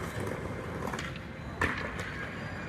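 Skateboarders ride and land tricks on an outdoor city street, with rolling wheel rumble under sharp board clacks and one louder slap from a landing, set against faint background noise.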